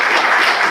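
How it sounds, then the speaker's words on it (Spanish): A lecture audience breaks into steady, dense applause for Matilde Nava, close and loud, lasting under a second with no talk over it. "creo que merece un aplauso Matilde"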